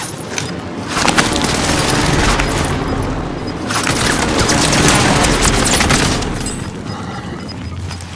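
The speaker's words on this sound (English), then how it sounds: "Calling for fire on my target. This is Phoenix 3. Strike inbound." Airstrike explosions and rolling gunfire in the video game Call of Duty: Modern Warfare, a dense, loud barrage of booms and rapid shots that swells in two long waves and stays continuous throughout.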